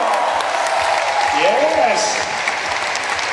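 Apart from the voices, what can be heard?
audience applause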